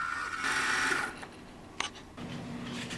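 A milling machine cuts a flywheel cutout in an aluminum casting for a Stirling engine base, taking shallow layered passes, a close steady whirring cut with brief pauses and a small clack.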